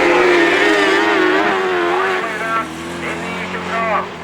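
Autograss race cars competing at St Neots, engines droning steadily at a distance as the two leading cars bump each other, heard beneath continuous commentary.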